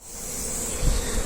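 Honeybees drone from an opened, well-developed hive crowded with bees, a dense steady buzz close to the microphone that swells slightly toward the end.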